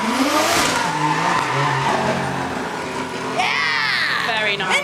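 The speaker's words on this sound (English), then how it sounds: "There's a lovely little clean handbrake into the parking bay there." At the Festival of Speed, a car makes a handbrake turn into a parking bay. The engine revs loudly and a squealing tire skid rises near the end, all under continuous excited commentary.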